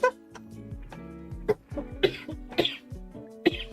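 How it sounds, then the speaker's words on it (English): A person coughs repeatedly in short, harsh bursts, several close-miked coughs and throat-clearing sounds scattered irregularly through a quiet indoor setting. "So sorry for all the coughing."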